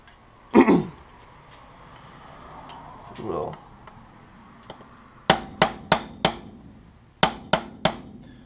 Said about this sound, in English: in that location you actually take a punch like this,